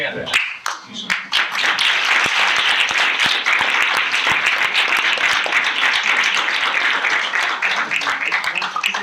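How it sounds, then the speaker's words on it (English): An audience at a DiEM25 UK citizens' assembly event breaks into sustained, dense applause for a departing guest, steady and loud across the whole stretch after a brief voice at the start. "I really want to big round of applause for Yanis"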